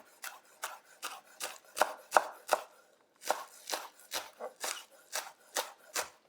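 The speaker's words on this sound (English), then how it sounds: "I'm going to thinly slice these scallions" A knife thinly slicing scallions on a cutting board, with about fifteen quick, crisp chopping taps in an uneven rhythm, heard close and alone with no talking.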